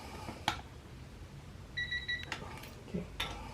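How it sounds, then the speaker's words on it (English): During installation of a rear sprocket adapter on a Luna Cycle Light Bee electric dirt bike, a faint, rapid electronic beeping sounds briefly, mixed with soft clicks and handling noises from the work nearby. "it's starting to beep a little bit."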